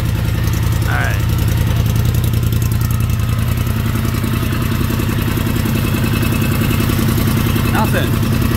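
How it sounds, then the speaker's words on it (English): A Polaris Sportsman XP ATV with a newly installed exhaust mount bracket idles loudly and steadily up close, its engine chugging and clattering throughout with no pauses. "I'm gonna start the bike up, check for an exhaust leak."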